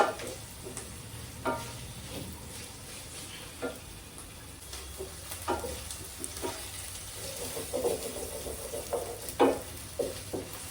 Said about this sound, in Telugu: ఈ అల్లం వెల్లుల్లి కూడా బాగా వేగాలన్నమాట.